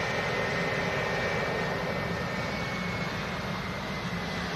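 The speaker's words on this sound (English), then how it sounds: "Got a TUI Dreamliner on the taxi out as well." TUI Boeing 787 Dreamliner taxiing out at an airport, heard as a steady, broadband jet engine roar with a faint whine, constant and moderately distant throughout, with no talk.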